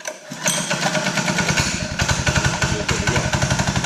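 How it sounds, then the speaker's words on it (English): A gasoline engine on a Borderline sod cutter for landscape curbing fires up and settles into a loud, rapid, chugging idle, close by and steady. "The engine's running."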